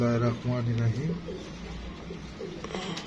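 Pigeons coo close by while a female pigeon is held up in the sun, giving several soft, throaty coos in the first second, with voices talking over a low background.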